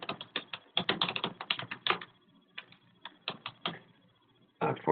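Steady bursts of keystrokes on a computer keyboard, close and clear, clustering in quick runs with short pauses, a gap around the middle and a final burst at the end, no voices.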